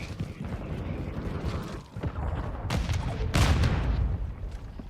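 Grenade blasts and gunfire in Call of Duty Modern Warfare II, a dense, continuous wash of battle noise with sharp bursts near the three-second mark and no talking.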